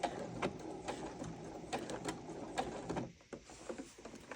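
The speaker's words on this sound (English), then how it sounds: "And I'm going to back stitch again." A sewing machine back stitching a heart-shaped pillow: short bursts of mechanical whirring and clicking close by, with brief pauses between runs and no talk.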